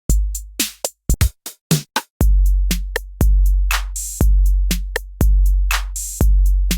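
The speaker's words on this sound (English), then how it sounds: "So what you're hearing are the sort of core elements in the drum kit." Ableton stock drum kit sounds, sharp dry electronic hits: crisp snares and hats in a quick irregular pattern, then deep booming kicks landing about once per second with long decays, loud and alone.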